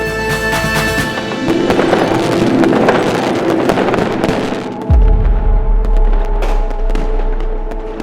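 Fireworks burst in a loud, dense crackling barrage with sharp pops, then a deep boom lands and a lower rumble lingers through the remainder.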